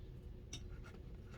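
A pen writes down a number on paper at a farm fuel tank, a short, faint scratching of a few quick strokes close up in a quiet setting.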